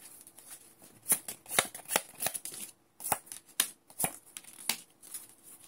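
Tarot cards being shuffled by hand, a run of crisp riffling bursts and flicks at a steady irregular pace, close and fairly quiet, with no voices.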